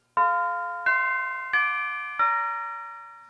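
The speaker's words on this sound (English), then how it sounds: "He spoke before the hour bell sounded, which it now did, with a deep, dull, hollow, melancholy one." A clock bell strikes the hour as a radio drama sound effect, four clear, evenly spaced ringing chimes, each decaying slowly into the next.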